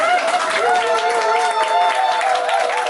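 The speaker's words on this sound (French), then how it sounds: "Vous avez applaudi pour elle" Applause from guests at a memorial dinner, a steady wash of clapping heard beneath sustained tonal voices or singing that runs across the whole stretch.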